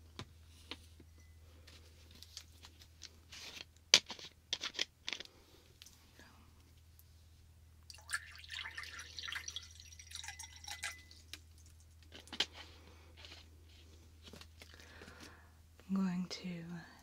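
Water poured into a Doctor Strange drinking glass, heard as soft, close trickles and drips amid quiet whispering and small handling noises.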